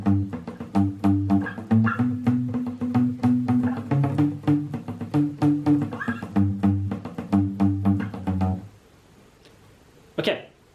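Electric guitar plays the opening riff of the verse of a song, a steady run of plucked notes with palm-muted chugs, played alone and close for about nine seconds before cutting out, followed by a brief sharp noise.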